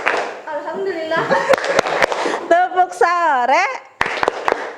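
Children in a classroom chant together during a clapping game, with a few sharp, distinct handclaps falling between the sung phrases and a final cluster of three claps near the end.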